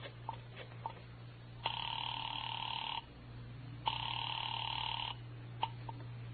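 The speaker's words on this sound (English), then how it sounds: "I dialed Bradshaw 711 and waited." Old-time radio drama phone effect: a few soft dial clicks, then two long electronic rings separated by a pause, with a low steady hum running beneath, and no voices.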